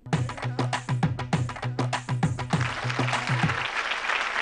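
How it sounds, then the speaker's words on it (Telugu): An audience applauds a guest at a stage event, starting with sharp, spaced claps that merge after about three seconds into a dense, steady round of clapping. "సో ఒక్కసారి పార్థసారథి గారికి గట్టిగా చప్పట్లు"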